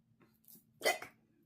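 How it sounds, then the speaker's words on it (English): One sudden hiccup from a person, sharp and fairly close, comes after a faint small catch in the throat against a quiet background. "Now I got the hiccups."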